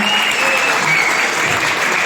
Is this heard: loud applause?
yes